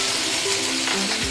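Chopped tomatoes and onions with salt fry in a pan for Schezwan Maggi, giving a steady, close hiss of sizzling with a faint stir near the end.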